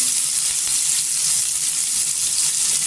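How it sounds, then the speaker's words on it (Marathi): Potatoes sauté in hot oil for a spicy potato bhaji, a loud, dense, continuous sizzle heard up close and steady throughout, with no talking. "आणि छान असं तेलावर परतायचं"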